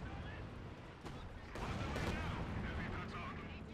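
Panzerwerfer rocket artillery firing in a World War II video game battle, a string of booming launches and blasts swelling midway, with gunfire around them and voices in the mix.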